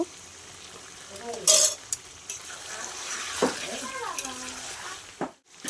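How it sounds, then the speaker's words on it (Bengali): Potatoes stirred into a frying meat curry in a pan, soft sizzling with scraping stirs and a few utensil clinks, close up, with a voice speaking over parts of it. "এই সময় আমি আলুগুলো দিয়ে দিচ্ছি আলুগুলো দিয়ে আর একটু নাড়াচাড়া দিয়ে তারপরে জল দেব"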